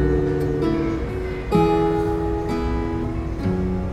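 A solo guitar melody imitating funeral firecrackers: a few plucked notes ring out alone, each note sustaining before the next, slow and clear.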